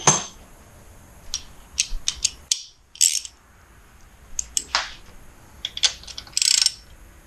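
Ratchet wrench removing a bolt from a blown 2009 Kawasaki ZX-10R motorcycle engine, loud close rapid clicking in short bursts with brief pauses between strokes.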